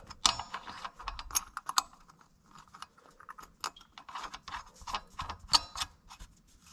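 A nut spins and ratchets onto the axle splines of an Arctic Cat Prowler XTZ 1000 UTV, giving close, uneven metallic clicks and rattles in quick irregular bursts.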